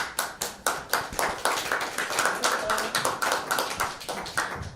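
An audience clapping after a talk at a women's leadership event, with loud, fairly rhythmic claps repeating steadily, close and distinct rather than a dense roar.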